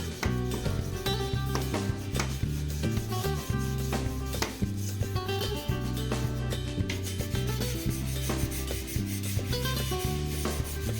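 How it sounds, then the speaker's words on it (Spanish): A soapy sponge scrubs bathroom tiles and taps with a continuous rough rubbing, close up and steady, in quick back-and-forth strokes with no voices. "Basta con pasar la esponja con jabón, restregar un poquito y listo."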